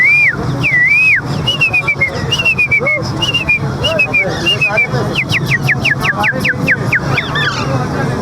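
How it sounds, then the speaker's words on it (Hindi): A man at the Sunday Lalukhet bird market in Karachi whistles a series of looping, then quick descending chirps, loud and close, over street traffic and people talking nearby. "पहले इनकी सीटी सुनते हैं, आज गर्मी में देखते हैं कैसी सीटी बजाते हैं ये।"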